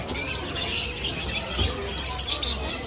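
Young birds for sale at a market chirp and tweet in a high, busy chorus over steady background noise, with brief squawks scattered throughout.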